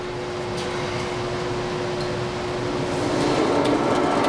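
Steady, loud mechanical whir of a boring machine cutting inside a worn bore, running continuously with a faint hum and no talking.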